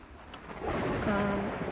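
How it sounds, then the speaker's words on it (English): Loud thunder in a video game, a deep rumble that builds and rolls over rain-like background noise, with faint voice-like tones mixed in. "That was loud thunder."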